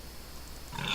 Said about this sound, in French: Il y a un cochon.